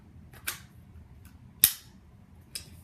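Slide of an H&K P30 airsoft pistol racked: three sharp, close metallic clicks, spaced about a second apart, the middle one loudest, against a quiet background.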